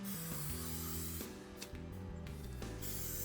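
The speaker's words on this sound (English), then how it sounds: "use some brake clean on it, clean out the brake dust" Brake cleaner hisses from an aerosol can onto a travel trailer's brake drum and hub, a close, steady spray with a few short pauses and bursts, faint overall.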